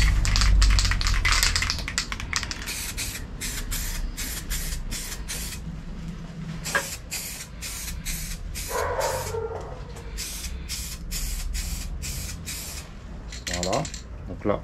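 Matte black Full Dip sprayed from an aerosol can as a second coat on three pieces, a run of short, loud, evenly spaced hissing bursts with brief gaps between them.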